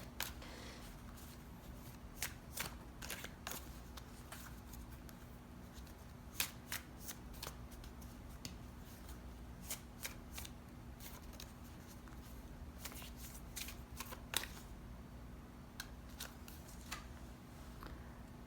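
Tarot cards being shuffled by hand during a reading, repeated crisp riffling bursts and flicks close up, recurring irregularly over a low steady hum.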